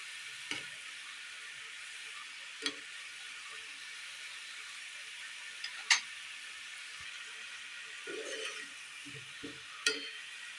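Snack frying in hot oil for a Kerala-style tea-time treat, a quiet steady sizzle with occasional sharp pops and clinks, no talk.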